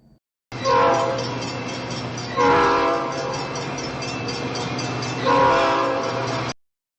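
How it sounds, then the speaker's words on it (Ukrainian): A passenger train rolls past with steady loud rumble and rail noise, its horn sounding in three long blasts spread across the passage, alone without voices. "А цей транспорт як називається? Потяг."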